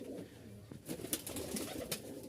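A Rajshahi Giribaz pigeon with feathered feet coos softly at close range, a few low throaty calls among faint background rustling and chirps.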